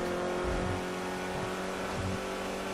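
A V10 car engine in a racing video game holds a loud, steady high-revving drone throughout, continuous and close with no talk over it.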